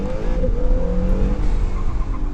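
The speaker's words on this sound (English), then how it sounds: "let's try launch control because why not?" A red 2018 Acura NSX pulls a launch-control start from Sport Plus, its engine note rising in a steady, loud drone of layered harmonics heard up close from inside the cabin, with no talk over it.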